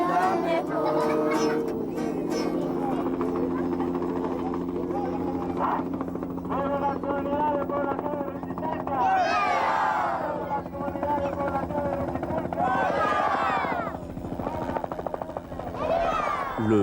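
A peaceful helicopter descends from the sky over Ixcán in Guatemala, its rotor a constant heavy drone, while a crowd shouts and cheers loudly on top of it.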